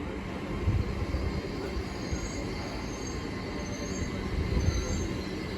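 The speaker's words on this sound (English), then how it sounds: "Here's a Great Western Railway IET to London Paddington." A Great Western Railway IET heading for London Paddington rolls through Reading station, its wheels giving a high, steady squeal over a broad rumble of rail noise, with faint surges of louder clatter.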